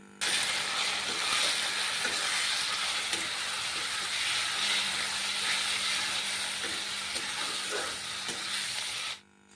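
Whole and ground spices with turmeric and chilli powder fry steadily in hot oil for a fish curry with cauliflower and potato, a continuous close sizzle with faint stirring clicks, no talking.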